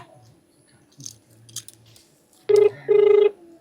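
Two steady electronic ring tones of a phone call connecting sound close and clear, a short beep then a longer one, after faint rustling and handling noises.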